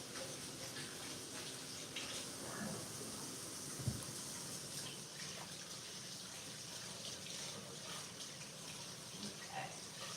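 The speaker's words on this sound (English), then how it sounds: "So I'm gonna go wash my hands." A kitchen tap runs steadily while hands are washed beneath it, a continuous mid-level rush of water with small splashes and no talking.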